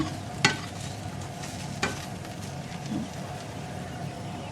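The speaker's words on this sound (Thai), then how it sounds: "ทำน้ำพริกปลา คั่วให้หอม" Chilies, garlic and tomatoes dry-roasting in a pan for Thai fish chili paste, giving a faint steady crackle with two sharp stirring knocks, no voices.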